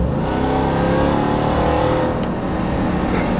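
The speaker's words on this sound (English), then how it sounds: "just listen to the supercharger whine" Supercharger whine and exhaust roar of a 2023 Ram TRX Havoc Edition pickup, a steady loud engine drone with a high mechanical whine riding on top, close and continuous with no talking.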